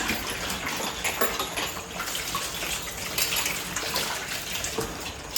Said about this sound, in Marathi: पाणी जास्त वेस्ट जायला नको त्याच्यामुळे मी टपामध्ये पाणी घेते